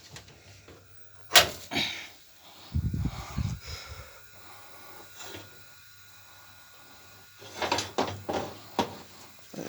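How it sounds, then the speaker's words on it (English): A gas oven door is opened in a home kitchen, giving sharp metallic clunks and a scraping creak amid quiet room noise, with a few more knocks and rattles that follow. "So open the oven for you."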